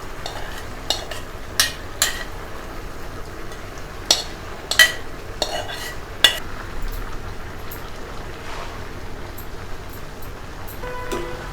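Ridge gourd and chana dal curry stirred in a pan: intermittent scraping and clinking of a spoon against the pan over a low background sizzle, irregular taps scattered across several seconds, moderately close, no voices.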